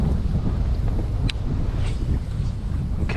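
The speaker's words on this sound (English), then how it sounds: "The wind's kind of picking up too." Gusty wind buffets the microphone outdoors while fishing from a boat for smallmouth bass, a steady low rumbling roar with one brief sharp knock partway through and no talk.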